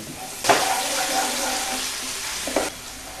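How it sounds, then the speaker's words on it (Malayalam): Green chilli and garlic stir-fried in hot oil with ginger already in the pan, for Gobi Manchurian: a close, steady sizzle throughout, with two short louder bursts as the pan is stirred, and no talk. "പച്ചമുളക്, വെളുത്തുള്ളി നല്ലപോലെ ഇളക്കി കൊടുക്കണം"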